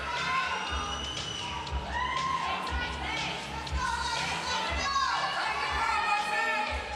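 Crowd noise from an audience at a women's pro physique and figure bodybuilding competition, a steady wash of cheering, shouts and chatter throughout with a voice carrying over the hall.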